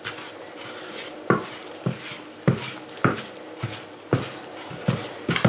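A wooden spoon stirs challah dough ingredients, including beaten egg, in a bowl, giving a regular series of soft knocks and thuds against the bowl roughly every half second, close and steady.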